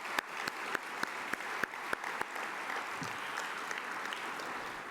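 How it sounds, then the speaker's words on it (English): An audience at a ULI Foundation event claps for the governors, a dense, even wash of applause with a few sharp, distinct claps near the start that settle into steady clapping. "Let's give all the governors a big round of applause."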